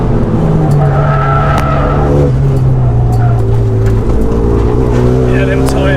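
RenaultSport Megane 250 Cup, tuned to 305 bhp, cornering hard on a race track: steady loud engine drone with a rising then falling pitch, tyres scrubbing underneath, heard from inside the cabin while someone talks.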